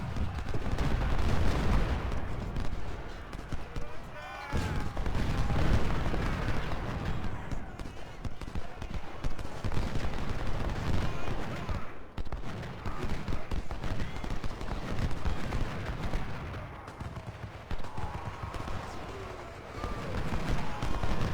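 Civil War battle gunfire in Ultimate General: Civil War, with dense musket volleys and crackling fusillades alongside heavier booms, sustained and loud throughout, with occasional voices underneath.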